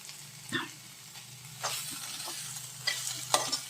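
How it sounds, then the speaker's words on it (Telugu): Onions frying in a pan for a custard bean stir-fry, with a steady sizzle broken by several loud stirring scrapes, close up and with no voices. "ఉల్లిపాయ మొత్తం పచ్చివాసన పోయేలాగా చూసుకొని కొంచెం వేగాలన్నమాట"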